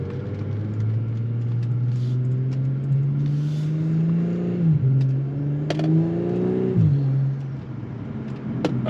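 An Audi B9 S4 in manual mode revs up loudly from close by, and the engine note drops sharply at two distinct upshifts. Each time the rising whine climbs again, with no speech.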